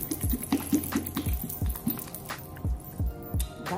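A bottle of Panda Express orange sauce is shaken, giving a rapid run of rhythmic liquid sloshes and thumps with faint clinks, followed by slower, irregular shakes, fairly quiet and close.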